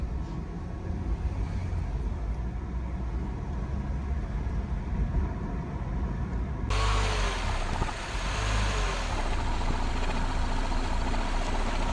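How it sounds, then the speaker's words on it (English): A car engine running on a test drive, its misfire supposedly fixed, giving a steady low rumble and road noise that grows louder and brighter partway through, with no talking. "I wanted to take it for a quick test drive just to make sure we have all power"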